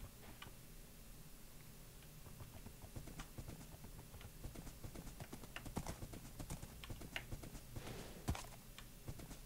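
Horse hooves clip-clop in the video game Minecraft, a quiet, steady run of light hoofbeats with occasional louder taps, heard alone without talk.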